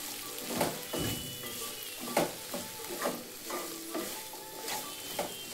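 Sliced raw banana coated in ginger-garlic paste is stirred in a hot pan, with a steady sizzle of frying under repeated scraping strokes of the spoon at a regular rhythm.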